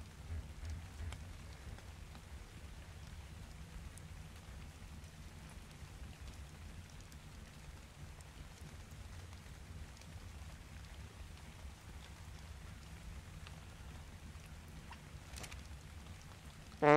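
Rain falling at night in a desert setting in Ark Survival Evolved, Scorched Earth, a faint steady patter with a low background rumble, continuous and distant throughout.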